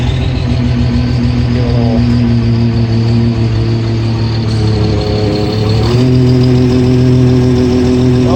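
An old articulated dump truck's diesel engine idles steadily while warming up and building air pressure, a loud, close, continuous low rumble with a slight shift in pitch partway through.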